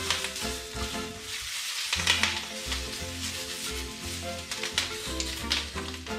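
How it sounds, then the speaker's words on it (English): Jalapeno peppers fry in a hot pan, giving a close, steady crackling sizzle with occasional stirring scrapes. "You want to cook until the peppers are soft, and also it's nice to have some blackening"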